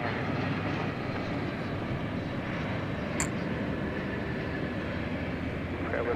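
American Airlines Airbus A321 touching down at DFW airport, a steady broad roar of jet engines and wind at a distance, even throughout with no voices.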